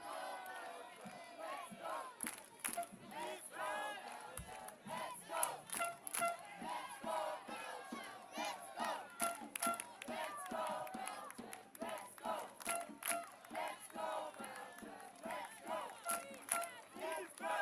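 A home crowd at a women's under-17 football match between Belgium and Germany in Ghent roars and chants in rising, surging waves, loud and continuous, with rhythmic shouts swelling throughout.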